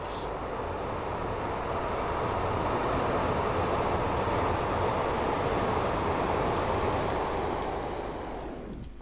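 A Class 66 diesel locomotive, 66618, at Butler Freightliner Terminal in a train simulator gives a loud, steady broadband rumble that holds for several seconds and then fades away.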